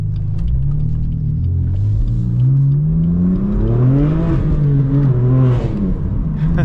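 A manual BMW M4 F82 revs hard with its wheels losing traction, a loud, close engine drone rising and wavering in pitch with a low rumble underneath.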